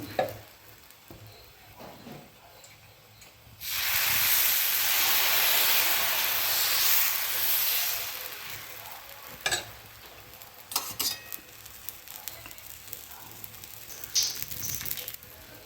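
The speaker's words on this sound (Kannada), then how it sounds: "ಇವಾಗ ಅದೇ ರೀತಿಯಾಗಿ ಮತ್ತೊಂದು ದೋಸೆ ಹಾಕ್ತಾ ಇದ್ದೀನಿ" Jackfruit dosa batter poured onto a hot pan and covered, breaking into a loud broad sizzle and steam hiss that eases into quieter crackling with scattered small pops.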